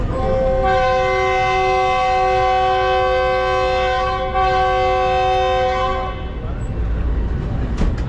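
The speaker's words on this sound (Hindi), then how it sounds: "3:40 ट्रेन ने अपना फर्स्ट डिपार्चर दे दिया है रावलपिंडी से निकलने के लिए" The Green Line Express sounds a long, loud horn blast lasting several seconds as it departs Rawalpindi station, then fades into rumbling train noise.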